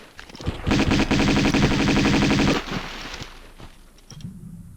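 Rapid, continuous Uzi fire in Tomb Raider 2, a fast rattling burst of about two seconds, loud and close, then a fading tail and a few faint trailing sounds.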